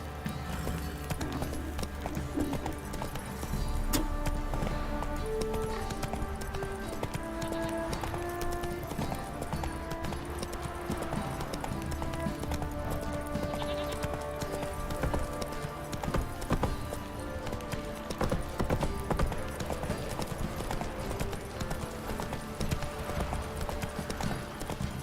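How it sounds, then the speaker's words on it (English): Horse hooves clip-clop steadily in The Witcher 3: Wild Hunt, a continuous rhythmic trot in a game soundscape that runs the whole time at moderate level. "Whoa there, Roach"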